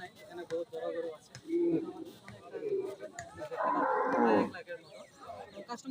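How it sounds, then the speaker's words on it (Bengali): Cattle lowing amid a busy cattle market before Eid, with deep drawn-out moos rising over a bustle of voices; a long, loud bellow stands out near the end while people talk throughout. "এখানে বহুত বড় গরু আছে"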